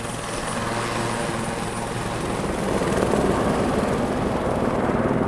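A helicopter's steady rotor thrum and engine roar in the Nepal Himalaya, loud and continuous, swelling slightly louder partway through with no voices.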